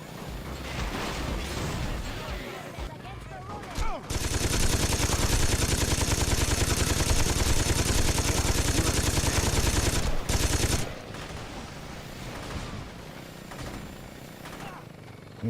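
Gunfire in the video game Saints Row 2: a dense, sustained roar of rapid shots lasting about six seconds, loud and continuous, with people talking before and after the burst.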